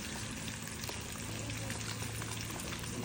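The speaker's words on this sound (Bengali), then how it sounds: "সবজিটা চাপিয়ে দিলাম, কুমড়ো আর আলু।" Pumpkin and potato chunks with salt and turmeric frying in a pan for a sweet-and-sour fish curry, a steady, dense sizzle and crackle throughout, with no talking.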